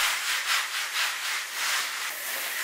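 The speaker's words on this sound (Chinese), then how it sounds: "锅烧热之后用胶液在锅中擦拭一遍" A heated, uncoated cast-iron wok over a wood fire being wiped down with a liquid, giving repeated rhythmic rubbing strokes layered with a soft hiss, close and steady.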